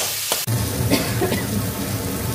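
Taro leaves being stirred in a pan with a little oil, a soft scraping stir over a steady low sizzle, with one brief sharp knock near the start.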